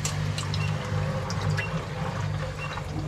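A pump sucks the last water out of an aquarium tank during a water change, giving a close, steady gurgling and slurping over a low motor hum.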